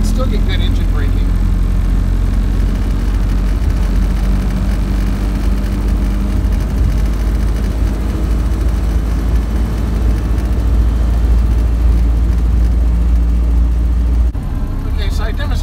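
A Ford Model A with a Mitchell overdrive, in second overdrive, engine braking downhill at about 25 mph; a steady, loud, low engine rumble drones without a break for the whole stretch.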